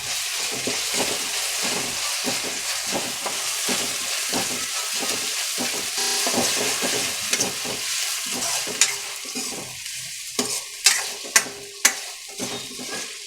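Ginger garlic paste fries and sizzles in a pan for an okra curry, with steady stirring scrapes throughout and a few sharper utensil knocks near the end, close and fairly loud.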